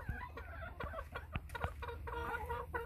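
Several chickens clucking in a backyard coop, soft repeated clucks and low murmurs close by, fairly quiet with no talk.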